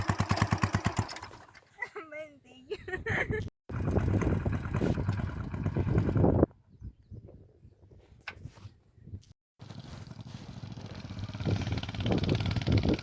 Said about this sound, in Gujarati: જો સનેડો હાલે છે. જો ટ્રેક્ટરની જરૂર ન પડે.